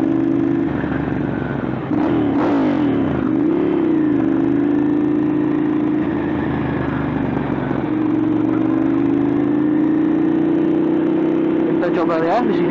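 A Ducati Monster 795 motorcycle engine hums steadily and rises in pitch as it revs and accelerates, with a voice speaking briefly over it.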